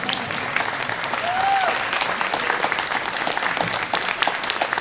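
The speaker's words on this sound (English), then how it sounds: "Applause." An audience applauds at the opening of the Great Northern Arts Festival in Inuvik, a dense, even wash of clapping from a crowd throughout, with a brief tonal chirp early on.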